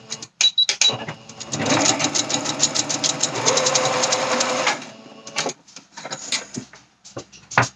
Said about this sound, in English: I'm going to go ahead and backstitch.